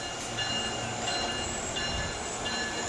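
A train departs, a steady rumbling rail-car roar with faint mechanical clatter heard from on board, fairly even and moderately loud throughout.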